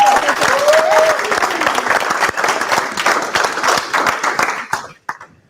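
A conference crowd applauds a speaker named Kenneth, with loud, dense clapping that holds steady and then tapers off and stops near the end.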